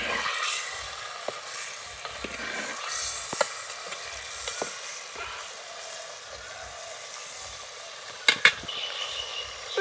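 Chicken stirred in a hot clay pot as it comes to a boil, a steady soft sizzle and hiss with scattered light scraping strokes and a couple of sharper clinks near the end, no talking.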